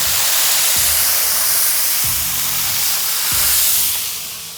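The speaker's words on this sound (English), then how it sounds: "Oh, you hear that sizzle?" Crab legs sizzle loudly on a griddle over charcoal, brushed with garlic butter as water is added, giving a steady close hiss with bursts of steam and faint crackling throughout.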